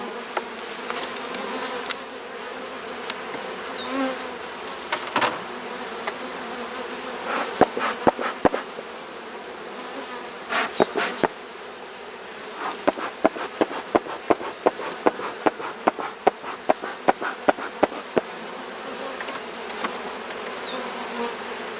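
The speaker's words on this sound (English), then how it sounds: "Lots of bees." Dense swarm of honeybees buzzing around an open beehive during an inspection, a steady close drone with individual bees zipping past the ear in quick bursts, no voices.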